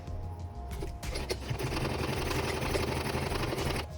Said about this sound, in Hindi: और स्टिच करके तैयार कर लूंगी एक पट्टी की तरह